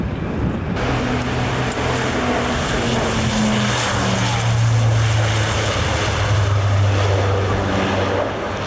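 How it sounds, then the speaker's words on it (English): A turboprop airliner from the first new-generation turboprops of 1984, flying at the 1992 Farnborough Airshow, gives a loud continuous propeller drone with a low, wavering engine tone that swells and eases as it passes overhead, with no speech. "This was the first of the new generation turboprops entering the market in 1984."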